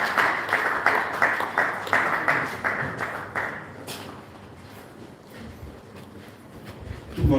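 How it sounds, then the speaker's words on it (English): Audience clapping at an entrepreneurial summit, a steady mid-distance round of applause that is strongest early, then fades into faint murmur and room noise with a brief bump at the end. "A round of applause as it comes forward."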